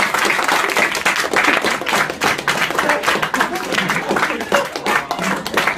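Clapping in a classroom as a teacher claps and a sleeping student wakes and claps along, a dense, steady patter of hand claps filling the whole stretch with some voices mixed in.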